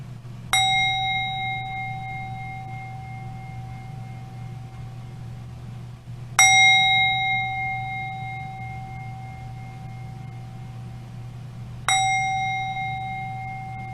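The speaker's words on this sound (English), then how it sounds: "Heather will ring the bells that open our service" A bell rung three times at even spacing to open a church service, each clear ringing strike decaying slowly over a low steady hum with no talking.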